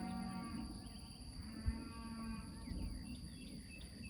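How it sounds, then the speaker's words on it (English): Cattle moo on a muddy farm, several drawn-out calls rising over a steady insect and crickets background with a low rumble, one brief thump partway through; no one speaks. "Got cows hollering everywhere."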